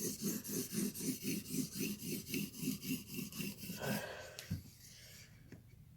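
Steady back-and-forth strokes sharpen a long Spyderco knife edge on an abrasive, about a dozen rhythmic rasping passes, close and even, before stopping with a few scrapes and light handling noises.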